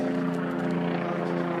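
Helicopter flying overhead, a steady low rotor and engine drone with even harmonic bands, moderately loud and continuous throughout with no voices over it.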